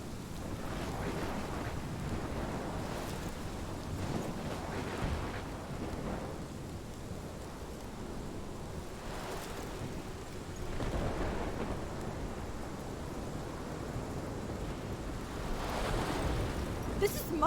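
A storm in the game Life is Strange, with a constant roar of wind and rain and low thunder swelling in waves over many seconds that sounds like surf at times, with no speech heard.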